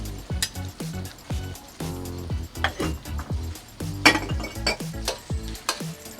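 Beef tossed into a pan of thick, heavy sauce for a working-class Chinese dish, with clinking utensils, scraping and sizzling in quick irregular bursts, close up, no talking.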